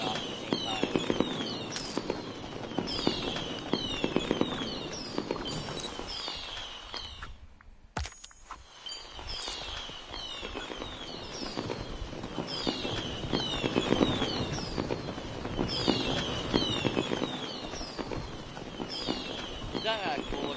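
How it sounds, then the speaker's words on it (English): Fireworks go off alongside fire and waterfall effects, a dense, continuous crackle of popping bursts and whistling, with a short lull partway through. "you got the fire and the waterfall, and all the fireworks going off at the same time"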